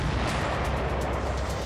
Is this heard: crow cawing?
no